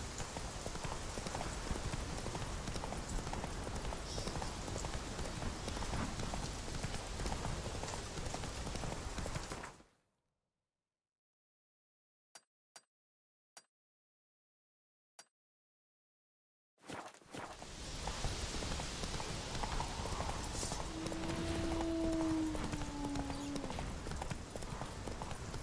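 A horse gallops in The Witcher 3: Wild Hunt – Hearts of Stone, with rapid, steady clip-clop hoofbeats that drop into near silence with a few sharp ticks midway, then resume just as busily.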